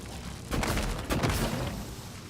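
Two muffled GLOO gun shots from the video game Prey, gluing a mimic in place: a pair of soft, splattering bursts about half a second apart over a quiet background.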